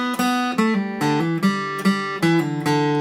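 Guitar plays a short passage from a song, with picked single notes and open-string pull-offs ringing clearly in a steady, moderate rhythm. The phrase is heard alone, with no talking.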